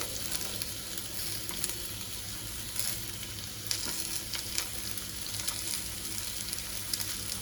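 Onions sautéing in a pan for a spicy dry chicken dish, a continuous faint frying crackle with occasional light stirring taps over a low steady hum.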